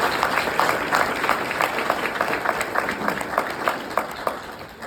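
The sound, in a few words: audience applause thanking the planning committee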